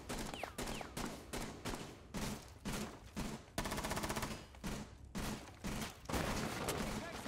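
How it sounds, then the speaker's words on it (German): Rapid bursts of automatic gunfire as Rainbow Six Siege players shoot each other, loud and close, coming in choppy volleys with brief gaps and one longer sustained stretch of fire. "Die schießen sich immer noch gegenseitig ab."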